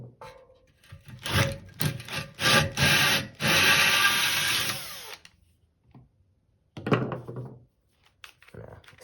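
Power drill fitted with an extension bit boring into set plaster of Paris for a sand-and-plaster furnace, loud grinding bursts for a few seconds, then a pause and a shorter final burst.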